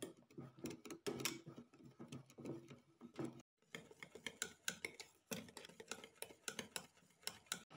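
A spoon stirs squares of chocolate with a large spoonful of butter for mini cakes, producing quiet scraping and clinking in uneven strokes, with a brief pause midway.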